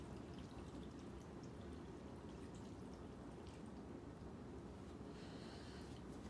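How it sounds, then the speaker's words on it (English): Water pours into a crock pot for vegetable broth, a steady, unbroken rushing stream that stays even throughout, quiet and alone. "Just pour that on in."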